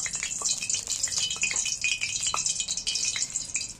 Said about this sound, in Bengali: আমি বড়াগুলো ভেজে নিচ্ছি, তেলে ছোটো ছোটো করে দিয়ে ভেজে নিচ্ছি